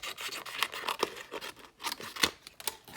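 Scissors snip through paper while a red heart is cut out for a handmade stamped greeting card, giving a quiet run of short crisp cuts at close range with no talking.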